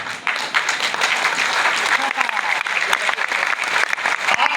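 A crowd at a Hindi motivational talk breaks into steady, dense applause, loud and close, with a few voices mixed into the clapping throughout.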